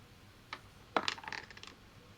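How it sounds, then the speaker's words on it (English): A six-sided die is rolled on a table, giving a soft tap and then a quick cluster of small clattering clicks as it tumbles and settles. The sound is quiet and close, with no talking. "So roll that d6 again."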